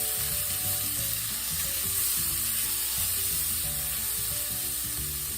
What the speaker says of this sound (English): Now I'm going to go ahead and mix that garlic up in there.